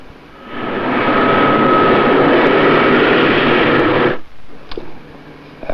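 Jet engines of the British Concorde prototype 002 (G-BSST) before takeoff on its first flight in April 1969 give a loud, steady broadband roar for about four seconds, then cut off abruptly to near quiet.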